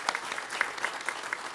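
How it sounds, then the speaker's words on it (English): A short burst of applause from a small group at a broadcast engineering conference, quick scattered claps at moderate volume with no talking. "I think we owe a big round of applause to Chris"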